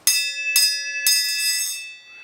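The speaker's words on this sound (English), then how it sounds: "So you want to ring the bell?" A small bell is struck three times in quick succession, bright and close, each strike ringing on with a clear sustained tone before fading out.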